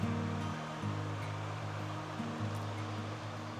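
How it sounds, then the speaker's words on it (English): Brook water flowing through a forest preserve in early winter, a steady broadband rush close by, with a low droning hum layered underneath throughout. "As you hike down the brook within the Nuckols Family Preserve"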